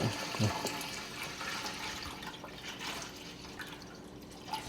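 Water from a tap running and dripping into a plastic gallon jug while prepping for a home seafood boil, a steady close splashing wash with a voice talking over it.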